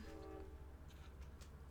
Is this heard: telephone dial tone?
no